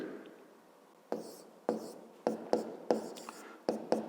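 Chalk or marker tapping and scraping on a board as an equation is written in a fifth-grade maths lesson, with a run of quick, close strokes after a quiet start and no speech.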